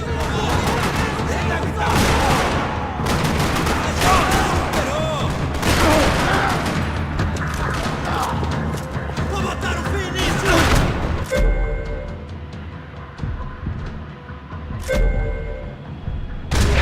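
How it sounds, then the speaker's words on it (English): Sustained, dense video-game gunfire in Max Payne 3: continuous rattling volleys of shots and booms across a parking lot, loud and chaotic, easing briefly before renewed bursts near the end. "Another parking lot rattling with gunfire."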